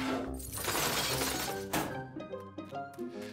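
Glass jam jars shatter in a cartoon sound effect, a loud bright crash of breaking glass followed by scattered tinkling shards settling and rattling over a few seconds.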